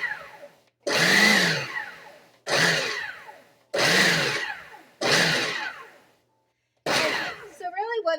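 Food processor pulsing graham cracker crumbs with white sugar, five loud whirring bursts of about a second each separated by short pauses, close by, with a voice briefly heard at the end.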